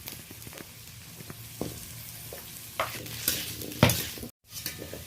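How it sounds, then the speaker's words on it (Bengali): Diced potato frying in mustard oil in a wok, a steady hiss of sizzling with a spatula scraping and clanking at intervals, close up, with a brief silent gap near the end. "একটা আলু ডুমু ডুমু করে কেটে রেখেছিলাম ওইটা ভেজে নেওয়ার জন্য তুলে দিলাম"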